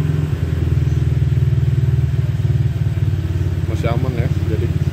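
A Honda Vario scooter engine idles steadily, a loud, close, even low putter that holds for the whole clip while someone talks over it.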